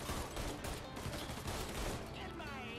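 Dense gunfire rattles in rapid, overlapping shots during a Mafia 3 street shootout, loud and close throughout the whole stretch.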